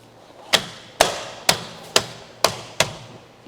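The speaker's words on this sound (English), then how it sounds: "Wheel hub cap removal." Six sharp metallic knocks at an uneven pace, loud and close, ring out as a hub cap is worked off a Chevrolet Cruze wheel, with nothing else heard between the strikes.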